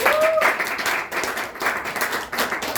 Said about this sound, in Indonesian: Boleh tepuk tangannya untuk Naomi?